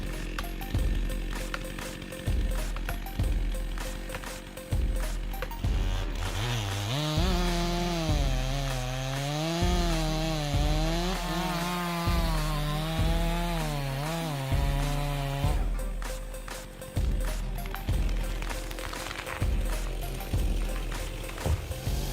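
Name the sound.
chainsaw cutting wood while logging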